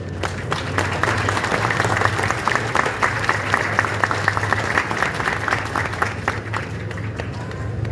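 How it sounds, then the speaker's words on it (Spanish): An audience at a memorial anniversary commemoration gives steady applause, with continuous clapping and light crowd murmur over a low hum for about eight seconds. "Un fuerte aplauso, por favor."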